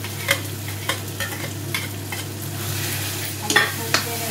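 Tomatoes go into frying chicken masala, and a spoon repeatedly scrapes and stirs the pan over a steady, close sizzle, with irregular clanks throughout.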